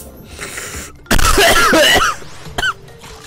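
One harsh, loud coughing fit lasting about a second, then a single short cough, close to the microphone during a Crash Bandicoot gaming session, with faint game sound underneath.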